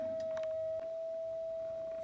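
A triangle wave from an Erica Synths EDU DIY oscillator sounds as a single steady, smooth mid-pitched tone, quiet and constant, with a few faint clicks early on.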